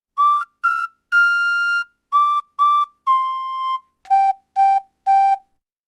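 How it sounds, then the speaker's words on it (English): A person whistles a short tune, clear and close, in separate notes of different pitches with brief gaps between them. "I am whistling a tune."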